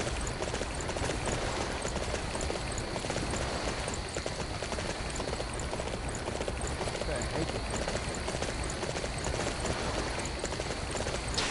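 Horse hooves gallop in the Dynasty Warriors video game, a rapid, continuous clip-clop beat running steadily under dense game noise and talking voices.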